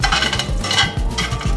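Herbs charring in a hot frying pan give a steady sizzle and crackle, with repeated stirring and scraping strokes against the pan throughout.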